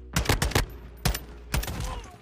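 Burst-fire gunshots in Modern Warfare 2, several sharp three-round bursts in quick succession, loud and close.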